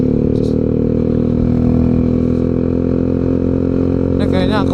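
A motorcycle engine drones loudly and steadily close by while riding toward Puncak near Bogor, a constant low rumble with a rider talking over it.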